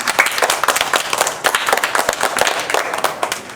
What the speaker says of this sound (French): j'aimerais que vous applaudissiez pour vous-même